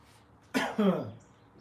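A single close, harsh cough followed immediately by a second throaty cough, then quiet.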